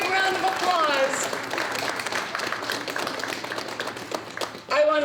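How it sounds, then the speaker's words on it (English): Audience applause at a recreation center event for an ice rink and fire promotion, a steady broadband wash of clapping sustained for about five seconds, with talk and voices mixed in underneath and a voice rising near the end. "Give them a big round of applause."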